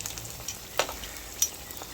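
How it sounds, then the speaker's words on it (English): Saltfish and bell pepper fritters fry in hot oil, a soft steady sizzle with a few faint pops and crackles, close and quiet, with no voices. "I'm gonna fry these until they become kind of golden brown and it's somewhat crispy"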